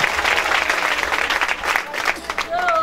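A church congregation claps for Jesus Christ: steady, moderately loud applause runs under a voice and continues throughout, with a faint tone near the end.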